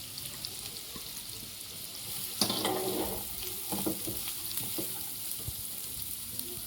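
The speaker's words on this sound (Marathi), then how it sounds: "त्याला फास्ट गॅसवर भाजून घ्यायचं आहे ह्याला थोडं." Chopped onion frying on a high gas flame in a home kitchen while making Schezwan pizza, a steady soft sizzle with a few sharper stirring clatters partway through; no talking.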